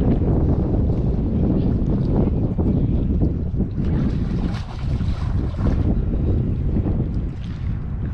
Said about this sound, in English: wind just picked up